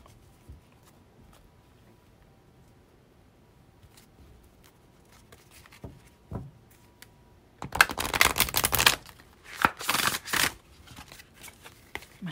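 Tarot cards, rather stiff, are shuffled close up in a couple of quick riffling bursts after a quiet stretch with faint handling sounds.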